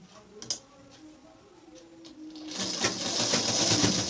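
A sewing machine stitching the fall onto a saree: quiet ticks and a faint hum at first, then the machine runs steadily and loudly with a rapid clatter to the end.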